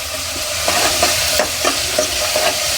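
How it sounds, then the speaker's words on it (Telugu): Chopped onions fry in a hot pan with a steady, dense sizzle, broken by a few soft scrapes and stirs of a spoon against the metal. "ఇట్లా మంచిగా కొంచెం వేగాలండి మనకి ఉల్లిగడ్డ, అది వేగిపోతూనే ఉంటుంది."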